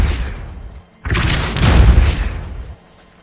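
A Depulso force spell cast in Hogwarts Legacy, a loud whooshing blast that erupts suddenly, builds to a booming burst, then cuts off, with softer rumble before and after.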